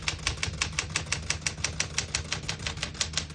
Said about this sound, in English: We're going to keep it on single and finish typing.